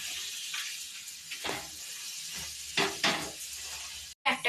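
Parathas frying several at a time in a pan give a steady oil sizzle with a few louder bursts of crackle and stirring scrapes, close and without voices, cutting out briefly near the end.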